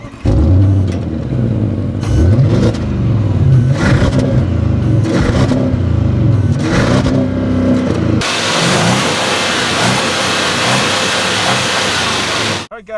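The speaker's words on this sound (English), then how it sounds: "I'm gonna give it a little bit of juice and just let go of the brake" A 2013 Audi S8 launches from a stop in sport mode, its engine rising through loud, pulsing revs heard from inside the cabin, then giving way to a sustained roar of road and wind noise.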